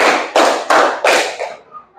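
Group of people clapping in unison during an ice-breaking clap game, a few sharp claps in quick succession, close and loud in a room.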